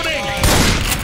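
Gunfire in Left 4 Dead breaks out as one loud, dense burst of shots lasting about half a second, with a voice heard around it during co-op zombie play.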